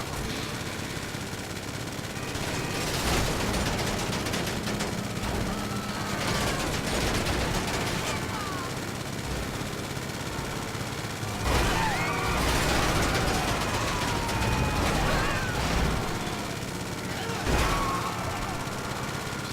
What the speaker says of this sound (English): I didn't realise I had guns on the front, look at that